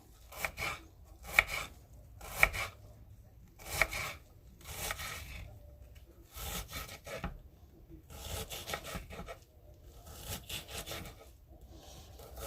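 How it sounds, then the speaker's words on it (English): Sharp knife chopping food on a cutting board for sautéing, slow irregular cuts and scraping strokes heard up close with no talk. "we're just going to cut it up into very, very small"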